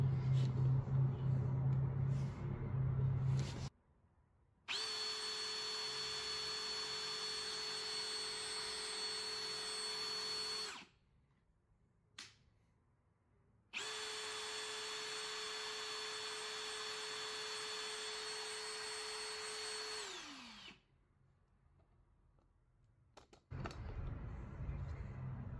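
An AEG BSB18BL cordless drill runs in two long, steady high-pitched bursts of about six seconds each, loud and close, with a brief pause between them and the second winding down at its end; a voice is heard around them.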